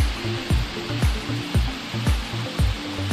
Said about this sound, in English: here I'm gonna try to maneuver my camera to where y'all can see this waterfall